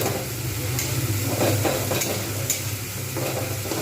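Spice masala for egg biryani fries in a pan while being stirred, a continuous close sizzle broken by soft scraping strokes of the spoon every half second or so.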